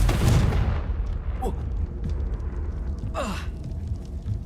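In the video game Hogwarts Legacy, the Confringo blasting spell goes off as a loud, rumbling explosive burst at the start, followed by whooshing magic effects and smaller crackles over continuous game noise and a brief voiced exclamation.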